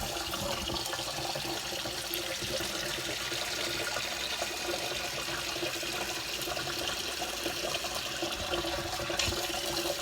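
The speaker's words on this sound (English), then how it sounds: "put a little water in there" Water pours steadily into a pot of sweet potatoes, a continuous close splashing rush with no break.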